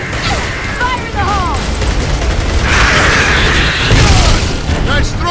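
A grenade explodes in Gears of War: Judgment with a heavy, booming burst amid clattering combat noise, loud and close, while voices call out during the blast.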